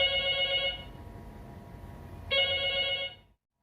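Telephone ringing in two bursts of a bright trilling electronic ring separated by a short gap, fairly close and with no talk.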